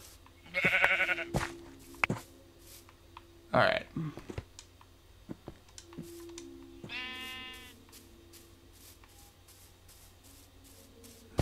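Sheep in the video game Minecraft bleat in short nasal cries over a couple of seconds, mixed with keyboard and mouse clicks and brief talk from a player nearby.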